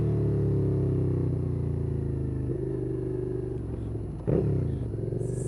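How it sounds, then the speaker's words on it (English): A Suzuki SFV650 Gladius V-twin motorcycle engine runs with a steady, deep throbbing rumble from a close position, then a brief rev surges near the end. "Oh, listen to that V-twin sound."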